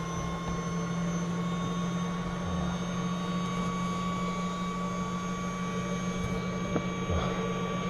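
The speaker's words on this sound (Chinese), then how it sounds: "这是个小飞机，还挺紧张的" Inside a small airplane flying over Guatemala toward the Fuego volcano, the engine drones steadily and loudly, a constant humming roar with a fixed pitch that fills the cabin from start to finish.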